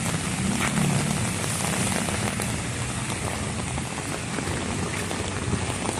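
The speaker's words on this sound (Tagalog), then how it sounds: "Ayun, lakas ng ulan." Heavy rain pours steadily onto surfaces outdoors, a dense, constant broadband hiss that holds loud and even throughout with no break.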